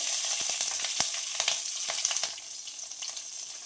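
Loud crackling sizzle of green chillies frying in hot ghee, with sharp pops and spatters over a constant hiss, close up and without speech.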